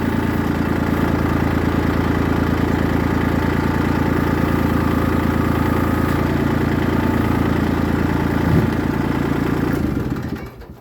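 A Kubota L2501 tractor engine running close by, a steady loud diesel idle with a rhythmic clattering knock that holds for about ten seconds before cutting off at the end.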